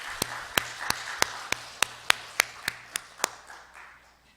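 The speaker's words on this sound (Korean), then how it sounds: "우리 하나님께 영광의 박수 한번 하시겠습니다." Congregation in a church clapping together in praise of God, about a dozen sharp, evenly spaced claps in a steady rhythm, close and fairly loud, fading off at the end.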